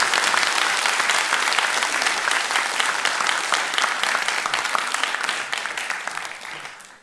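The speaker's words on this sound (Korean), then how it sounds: "우리 수고하신 목사님께 우리 한번 감사하는 마음으로 박수를." A church congregation applauds together at a Sunday afternoon worship service, with steady, dense clapping throughout that fades slightly toward the end.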